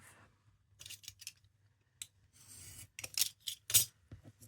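Scissors cutting a small piece of paper, with a few soft, close snips and crisp paper rustles in a quiet room.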